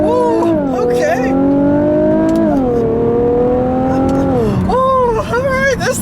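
A 2016 Infiniti Q50 Red Sport 400 with a 3-liter twin-turbo V6 accelerates hard, its engine note climbing steadily through the gears with a dip at each shift, loud from inside the cabin while a person talks over it.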